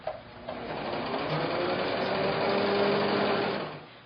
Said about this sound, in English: I will guide this fabric as it goes under the needle so that it rides right along the right side of my presser foot